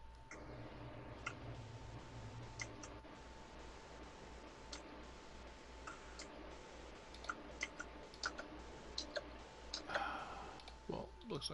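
Faint, scattered clicks of a mouse and keyboard during a Roblox game, light irregular taps over steady background hiss, with voices talking in the background.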